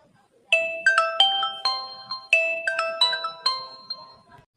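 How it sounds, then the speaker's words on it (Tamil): A phone ringtone for an incoming call from an unknown number plays a bright, repeating melody of chiming tones, two matching phrases in a row, close and clear with no talking. "ஏதோ புது நம்பர்ல இருந்து கால் வருதுடா"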